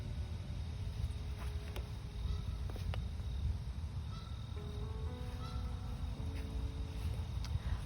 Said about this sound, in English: There's probably like 25 geese in front of me.